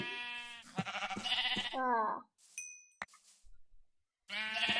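Minecraft sheep bleating in short harmonic bursts, a run of quick calls followed by a pause and another bleat near the end, with a brief chime-like ding in the gap.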